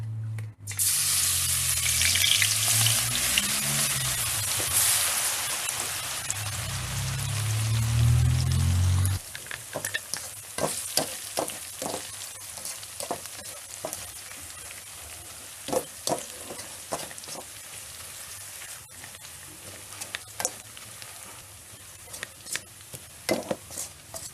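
Garlic frying in hot oil for a Thai chili paste, a dense steady sizzle that fills the first nine seconds, then a quieter crackle broken by sharp clicks and stirring taps.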